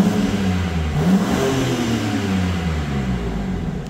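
BMW M4 Competition 3.0 with a 503 bhp engine revving up and settling with its exhaust in comfort mode, a loud, close, continuous rumble that swells and falls with no voices.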